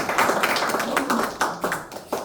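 Scattered, uneven applause from an audience at a peace forum marking the 107th anniversary of the March 1st Movement at Taehwagwan, with irregular claps rising and thinning across the moment.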